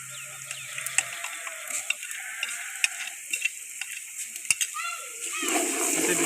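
Ginger garlic paste frying with whole garam masala spices in a pan: a steady, soft sizzle with scattered ticks and crackles, while someone talks over it, growing louder near the end.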